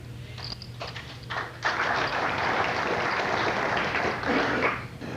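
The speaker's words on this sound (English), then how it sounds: "There should be this much applause at every poker game." At a 2004 celebrity poker showdown, scattered claps at first swell into full, loud applause from the crowd around the table, holding as a dense, continuous roar of clapping until the end.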